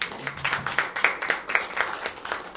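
Brief audience applause welcoming a speaker to a book presentation, a small crowd clapping unevenly in bursts for a couple of seconds, fairly close.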